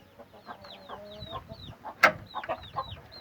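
An Arab (Aseel) rooster and chickens, with chicks nearby, give soft, scattered clucks and short calls, one sharper squawk standing out, fairly faint with no talk.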